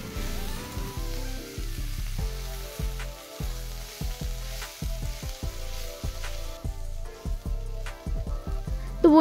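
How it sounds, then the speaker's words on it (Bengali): Shushni saag, water clover greens, stir-fries in a pan with steady close sizzling, broken by repeated rhythmic scrapes and tosses of the spatula. "শাকগুলো ভালোভাবে নাড়াচাড়া করে নিতে হবে"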